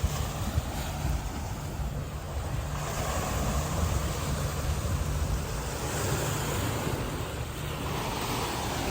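Strong sea waves surge against a white cliff on Tung Lung Chau, a steady wash of surf mixed with heavy wind buffeting the microphone throughout, loud and continuous with no talk.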